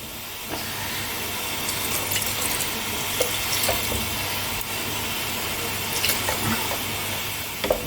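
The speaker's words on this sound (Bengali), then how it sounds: "এবার আমি এতে জল দিয়ে দিচ্ছি।" Cold water is poured into a pressure cooker holding mutton curry, a continuous close splashing hiss with a few small clinks and bubbling bursts, and no speech.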